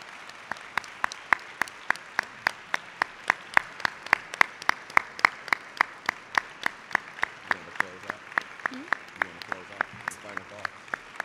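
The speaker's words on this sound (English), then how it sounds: "how about a big round of applause for our panelists?" Audience applause and clapping for panelists after an evening panel discussion, steady and close throughout, with a faint voice surfacing near the end.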